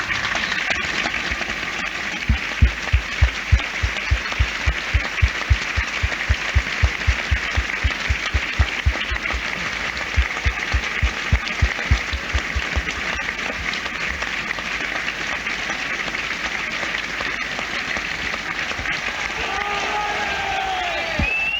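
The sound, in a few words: stadium crowd applause, one minute tribute at Turf Moor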